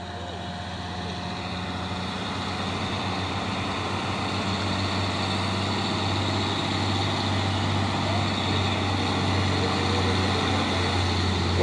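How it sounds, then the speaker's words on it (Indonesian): A tall tanker truck passes on a road, its steady engine rumble swelling slowly and continuously over the whole stretch, with no voices. "terpantau rame lagi truk tangki tinggi."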